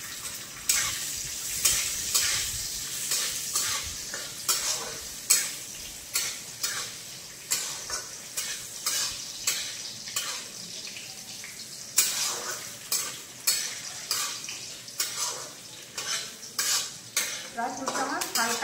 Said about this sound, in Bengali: ড্রাই ফ্রুটটা আমার হালকা ভাজা হয়ে গিয়েছে,